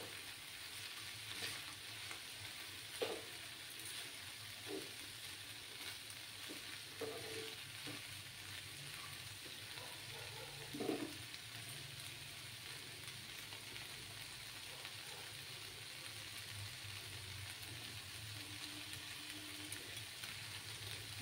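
Tomatoes for a sweet chutney soften and sizzle in a pan, a steady fairly faint frying hiss running throughout with occasional soft stirring knocks and scrapes.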